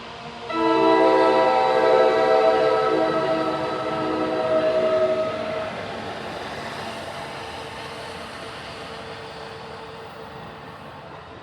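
NJ Transit passenger train hauled by an ALP-45 locomotive passing through the Meadowlands, northbound, sounding a loud sustained horn chord that fades into a long, steady rumble of wagons rolling by.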